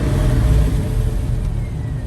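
A 1969 Chevrolet Camaro fitted with a rebuilt 5.7 liter engine from a 2002 Camaro rumbles loud and close, holding a steady, heavy idle-to-rev drone without a clear starter crank.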